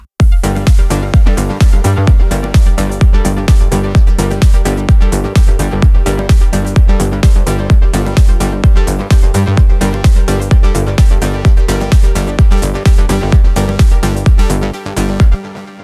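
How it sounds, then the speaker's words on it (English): Moog synthesizer with effects playing a loud, steady rhythmic intro part, dense repeated pulses with thick bass over about sixteen seconds, no voices. "So that's the Moog in the intro"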